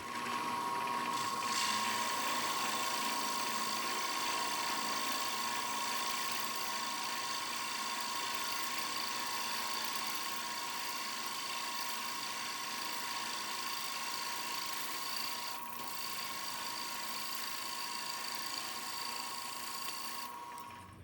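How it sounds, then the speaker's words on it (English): A drill press cutting a 1 inch counterbore 1/2 inch deep in a metal part for a welding table vice mount, with a steady whirring hum and cutting noise running loud and continuous throughout, no talk. "I'm going to do my 1 inch counter bore 1/2 inch deep."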